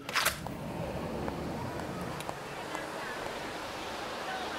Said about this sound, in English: It's very windy right now, so the waves are pretty rough